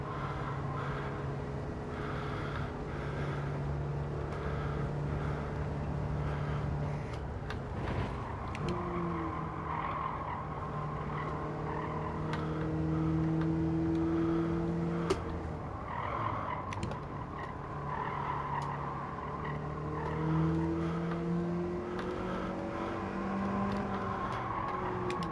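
A race car engine in Gran Turismo 7, droning steadily with rising and falling revs and gear changes, mixed with drawn-out tire squeal through the turns, loud and continuous throughout.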